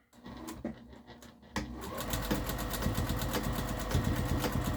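A sewing machine stitching a harvesting apron starts with a few slow, quiet clicks, then runs in a fast, steady whirring rattle close by.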